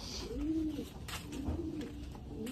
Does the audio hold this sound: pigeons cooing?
yes